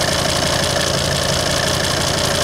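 A common rail diesel engine idles smoothly and loudly up close, a steady unbroken mechanical hum with a slight knocking texture and no voices.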